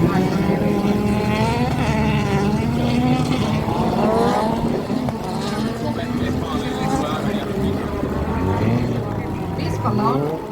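Rallycross race cars roar around a track at Hyvinkää, engines revving and shifting pitch as they pass, loud and continuous under an excited commentator talking throughout.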